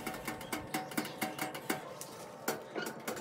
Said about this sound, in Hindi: तो अब हम ट्रे को रखते हैं अंदर बेक